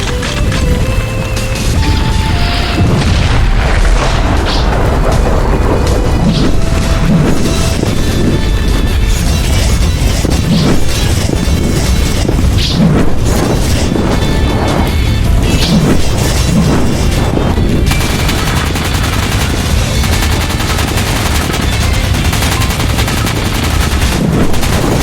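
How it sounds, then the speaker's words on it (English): Heavy battle sounds with loud rapid gunfire and crashing blasts that may be grenade explosions, dense and continuous at close range, with no clear talking. "Zex, Tirade, arm your grenades"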